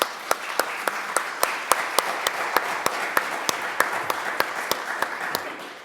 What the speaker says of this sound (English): So if you could give them a nice round of applause.